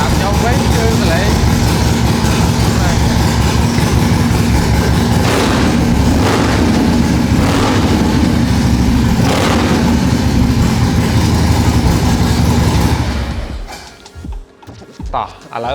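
A 2019 Harley-Davidson Street Glide motorcycle runs loud and close, its rumbling engine swelling in a few revving bursts before it cuts off near the end, leaving quieter background sound.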